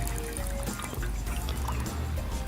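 Water runs steadily from a drinking fountain on or near a playground, a continuous liquid trickle and splash with no talk over it.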